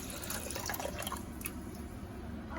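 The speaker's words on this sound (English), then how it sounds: "We're gonna just add some warm milk." Warm milk pours into a bowl of yeast and water for doughnut dough, a soft, quiet trickling and splashing heard close up for a couple of seconds.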